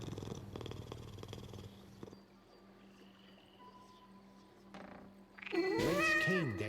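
A cat in the video game Dishonored 2 purrs in a low, faint rumble under quiet game ambience, ending with a louder, rising meow-like cry.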